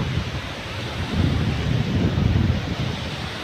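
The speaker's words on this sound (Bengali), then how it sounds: "কি ঢেউ কি বড় বড় ঢেউ আসছে" Sea waves rolling onto the beach at Cox's Bazar, a broad rushing roar that swells in the middle, with wind buffeting the microphone and no talk.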